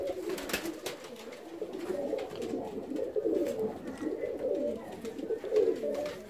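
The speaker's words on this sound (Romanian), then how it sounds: "porumbeii sunt sănătoși" Fancy ornamental pigeons coo steadily in an aviary, a low rolling chorus of several birds close by with faint scratching and flutter in the background.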